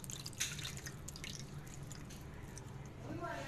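White vinegar is poured onto cut raw chicken pieces being marinated, a soft, close trickle with a brief drip and splash early on, then a quiet wet pattering against a faint hum.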